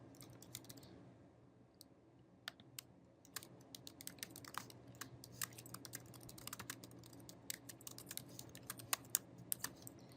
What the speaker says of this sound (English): here's where you can just type in whatever you want to say